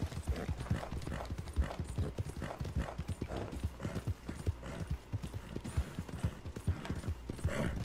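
Horse hooves clip-clop at a steady walking rhythm in the multiplayer Western video game Red Dead Redemption Online, continuous and fairly loud throughout, with no talk over them.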